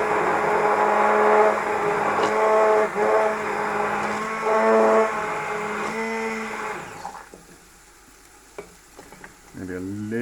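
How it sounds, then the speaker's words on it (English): A kitchen blender whirs loudly and steadily for several seconds, then cuts off, leaving quieter clinks and rustles. "Use the blender."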